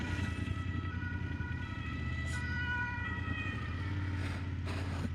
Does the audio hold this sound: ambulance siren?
yes